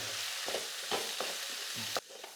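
Vegetables fry with chili and turmeric masala in a pan, with a close sizzle broken by several scraping stirs of a spoon, ending abruptly as the sizzle drops away.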